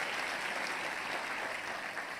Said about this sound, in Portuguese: aplauda Ele mais uma vez